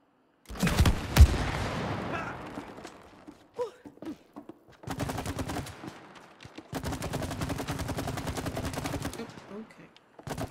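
Gunfire from a weapon in the video game It Takes Two: a loud opening blast, then long rattling bursts of rapid automatic shots separated by pauses, with some talking in between.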